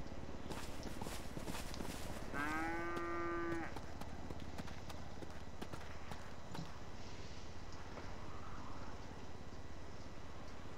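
A cow in the GTA 5 video game lets out a single clear, drawn-out moo of about a second over steady game background noise, with faint clip-clop-like sounds nearby.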